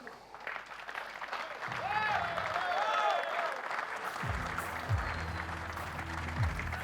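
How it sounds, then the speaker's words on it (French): An event audience applauds in a steady wash of clapping throughout, with a voice speaking over it and some low electronic tones. "Merci s'il vous plaît d'applaudir Mathieu Richard"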